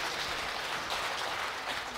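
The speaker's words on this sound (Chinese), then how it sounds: "我们拍手欢迎他好吗？" A church congregation at an evening prayer meeting claps to welcome a first-time visitor: dense, steady applause from many hands filling the room, loud and continuous, with no talking over it.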